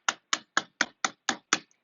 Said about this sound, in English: all you gotta do is just go in with the hammer